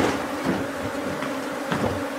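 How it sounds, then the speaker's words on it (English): A steady, dense buzz of many guard honey bees swarming close by around a hive, a continuous droning hum with faint knocks underneath and no talking. "We have a lot of guard bees here."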